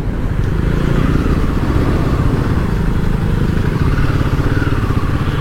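Royal Enfield Himalayan 450 motorcycle under way, a steady loud engine drone with road and wind rumble running unbroken throughout, no voices over it.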